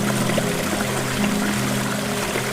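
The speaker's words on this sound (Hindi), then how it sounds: "पानी बहने की आवाज आ रही है।" Water flowing from a nearby waterfall makes a loud, continuous rushing pour with no pauses, steady throughout.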